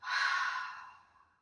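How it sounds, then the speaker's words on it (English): A single long, audible breath pushed out through the mouth during a relaxation breathing exercise, starting strong and fading steadily over about a second, close and alone. "and then exhale"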